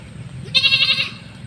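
A single short, close goat bleat, a nasal wavering cry of about half a second that rises out of faint farmyard background.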